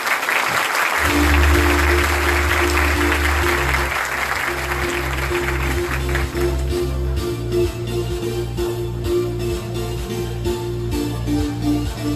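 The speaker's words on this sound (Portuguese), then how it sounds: "uma salva de palmas" Applause from a seminar audience in Brazil for a speaker, full and dense at first, then thinning out as a rhythmic low music beat takes over.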